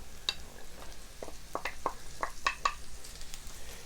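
Bacon sizzling with softened onions in a pan, a steady close crackle with several sharper pops and stirring scrapes over a few seconds.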